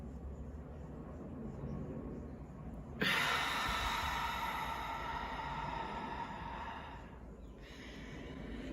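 A deep breath drawn in and then released during a guided breathing exercise, a long broad airy rush rising suddenly midway and easing off, heard close and alone.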